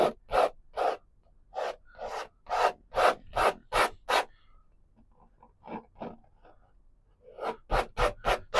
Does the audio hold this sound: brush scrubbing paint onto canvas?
yes